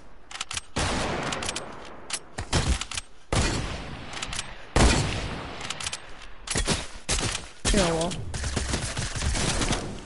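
Suppressed gunfire in a video game comes in clustered bursts of sharp, dry shots with brief gaps, close and loud, while players talk between volleys.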